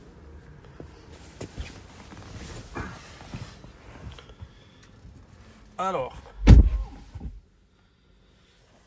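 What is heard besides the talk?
walking to an electric car and getting in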